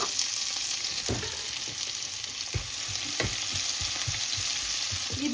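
Onions and curry leaves fry with mustard seeds, urad dal, fennel and cumin in hot oil, making a bright, continuous sizzle. Sharp spoon knocks and scrapes against the pan sound at irregular intervals, and nobody speaks.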